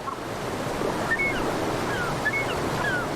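Turbulent white water of a salmon river churns in a steady, loud wash of broadband noise, with faint bird calls piercing the rush; no one speaks.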